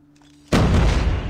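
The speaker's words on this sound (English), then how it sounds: "That's why I throw a nade there." A grenade blast in Call of Duty Mobile hits suddenly after a near-silent lead-in, one loud close boom with a crackling, rumbling tail that stays strong to the end.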